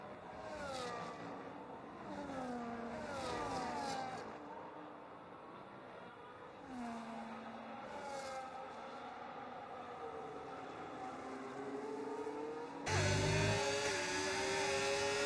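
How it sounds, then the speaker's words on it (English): Ferrari and Mercedes Formula 1 cars at Qatar in a racing game, high-revving engines whining through repeated upshifts and falling pitch sweeps, a steady near drone with a louder burst at the end. "So here comes the Ferrari into the slipstream of the Mercedes."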